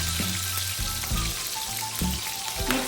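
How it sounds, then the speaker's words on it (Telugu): Green chillies frying in hot oil for a beetroot chapathi meal with carrot and potato curry, a steady close crackling sizzle with a few louder bursts and low clatter, no talking. "ఫస్ట్ మనం మిర్చి వేసుకోవాలండి. మిర్చి కొద్దిగా ఘాటు పడతాయి అన్నమాట ఆయిల్కి."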